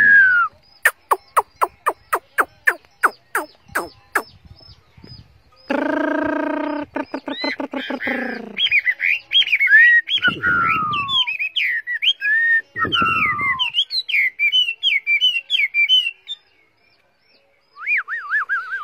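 A tame Chinese hwamei songbird sings in a cage: a burst of rapid clicking notes, then rich rolling phrases and many varied whistled chirps and trills, loud and close, with a short pause near the end.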